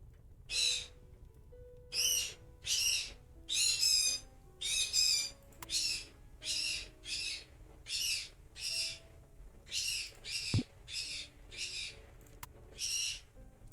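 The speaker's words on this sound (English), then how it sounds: "My bird's yelling at me for my sins." A pet bird shrieks loudly indoors in a long run of about fifteen harsh, raspy calls, each roughly half a second long, spaced in an uneven rhythm close to the listener, with a brief knock partway through.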